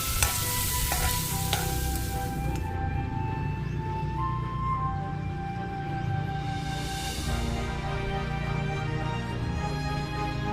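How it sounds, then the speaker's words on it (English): Bacon fries in a pan, a dense, loud, unbroken crackling sizzle that holds steady from start to finish, heard close with no voices. "Doesn't it give you music to your ears when you're hearing those sounds? You can already smell the bacon."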